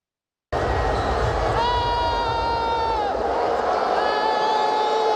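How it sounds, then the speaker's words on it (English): Inside an arena at a WNBA Indiana Fever basketball game, a crowd roars loudly with drawn-out vocal tones, consistent with booing, that rise after a brief silence and sustain over a constant hubbub. "it's booing at a basketball game"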